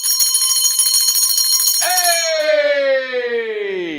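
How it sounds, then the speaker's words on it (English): A big bell rung to celebrate small wins at a live real-estate event, struck loudly with a bright, shimmering ring that sustains through the clip and slowly decays, with faint voices underneath. "Let's do a big bell for a lot of small wins."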